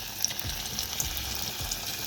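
Lentil fritter batter (dalir bora) in hot oil, producing a dense even sizzle with a few soft pops and bubbling bursts, close and steady with no voices.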